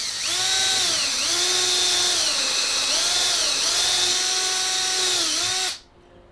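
A power drill with a countersink bit whirs loudly and continuously, its pitch dipping briefly several times under load, then winding down and stopping.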